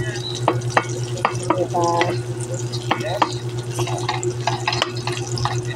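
Pork sizzles in a hot pan with onion nearby as a spoon stirs and scrapes it, a close, steady frying hiss broken by clinks and scraping strokes, with a low hum underneath and a brief spoken word.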